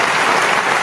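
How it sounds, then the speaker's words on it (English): An audience claps steadily at a soul line dance gathering, a dense, loud burst of applause with no voices standing out. "Wait, let me get your claps."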